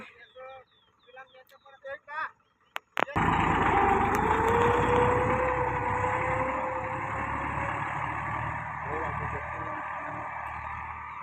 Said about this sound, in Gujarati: ખેતરમાં અમે ટેસ્ટ કરવા લઈને આવેલા છે આજે અમે ટ્રેક્ટર લઈને આવેલા છે ખેતરમાં